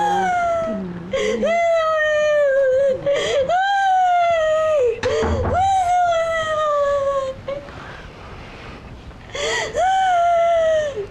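A young girl cries and whimpers in drawn-out, wavering wails, broken by sobbing gasps and short pauses, loud and close, with an adult voice speaking between the cries.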